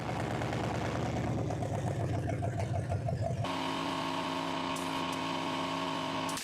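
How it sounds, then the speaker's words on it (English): A junkyard V8 Chevrolet C10 engine running just after starting, a loud, steady mid-pitched drone with rhythmic pulsing, shifting partway into a smoother, even idle hum. "and the engine starts successfully."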